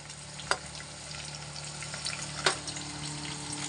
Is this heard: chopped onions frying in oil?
yes